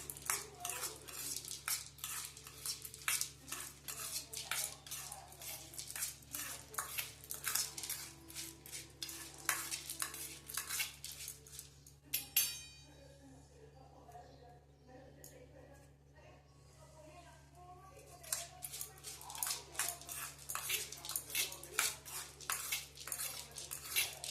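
Sorghum mukhwas being mixed with yellow-orange colouring in a bowl, a spoon clinking and scraping rapidly against the sides, with a short quieter pause before the brisk clattering resumes.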